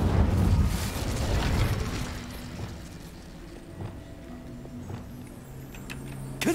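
Incendio fire spell cast in Hogwarts Legacy, a burst of roaring, crackling flame at the start that fades into a quieter combat bed with faint pops.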